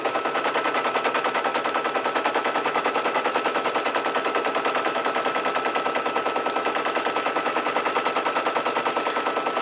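A sewing machine stitching a placement stitch on a small hippo project rattles in a fast, even, mechanical patter that continues unbroken and moderately loud throughout.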